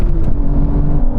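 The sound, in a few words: Aston Martin car engine revving at a drag race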